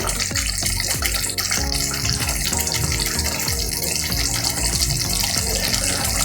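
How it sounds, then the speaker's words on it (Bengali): Rohu kalia curry, with water added to the masala, boils in a pot, giving a dense, continuous bubbling and gurgling at close range, alone and fairly loud. "ফুটছে"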